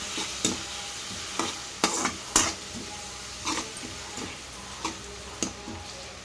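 Chopped green chillies and onions fry in oil with a constant close sizzle, while a spatula scrapes and taps the pan in sharp, irregular strokes.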